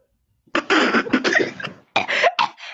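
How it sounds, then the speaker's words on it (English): A man coughs hard several times in two close bursts after a moment of silence, harsh and loud near the microphone during a livestream. "I have a very bad cough."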